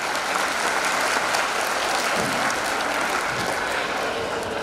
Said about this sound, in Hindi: टीचर के लिए एक तालियां तो जरूर बनेगी